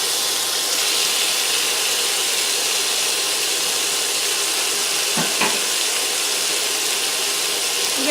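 Bacon fries in a hot skillet over medium-high heat, crisping for beef bourguignon: a dense, constant, close sizzling hiss with no pauses and no talk.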